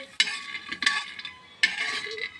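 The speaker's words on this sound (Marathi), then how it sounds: "शेंगदाणे खरपूस भाजून घ्यायचे" Peanuts dry-roasting in a pan, stirred in three distinct bursts of rattling, scraping sound with brief quiet gaps, close and fairly crisp.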